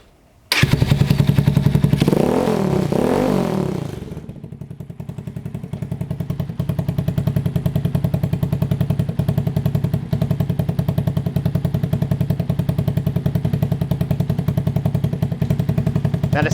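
A motorcycle idles steadily at close range through a modified exhaust, its baffle in place with the end cap removed; a brief rise in engine pitch near the start settles into a constant, even rumble that continues throughout.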